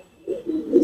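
Old-breed Tonk pigeons in a loft give a brief, soft, low cooing call, close by and on their own.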